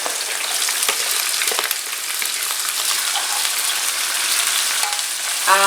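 Mung bean sprouts fry in a pan where pork chops were browned, giving a loud, dense, continuous sizzle close up, with a few small clinks near the end and no talking.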